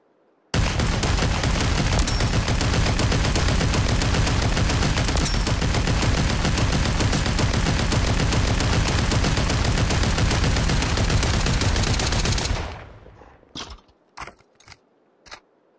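Continuous rapid automatic gunfire from the VR shooter Population: One, loud and sustained for about twelve seconds, then a few separate shots with quiet gaps between them.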